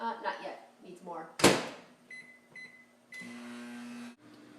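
A microwave oven melts butter: a door thump, then a few beeps, then the steady hum of the oven running before it stops, with a voice speaking at the start.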